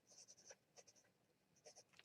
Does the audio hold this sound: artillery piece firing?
no